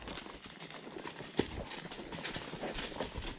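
Hooves of a black stallion clip-clop at a steady walking rhythm during a horseback ride, fairly quiet and close, with one sharper knock partway through and no talking.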